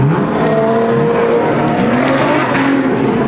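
Street stock race cars lapping an oval racetrack, loud roaring engines with rising and falling revs as they pass, a dense, continuous, close-up wall of motor noise.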